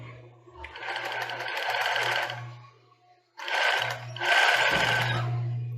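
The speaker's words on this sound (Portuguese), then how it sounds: "Aqui nós vamos costurar bem na beiradinha." A sewing machine stitches along the edge of a child's bra in two long runs, with a brief stop in between. The motor whirs steadily and close, with no talk over it.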